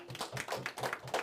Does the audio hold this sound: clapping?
yes